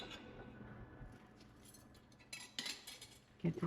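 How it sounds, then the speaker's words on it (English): Metal utensil stirring in a cast iron skillet with peanut oil, producing faint scraping and a few light clinks. Louder clanks arrive near the end and no one speaks. "Let's give this a stir."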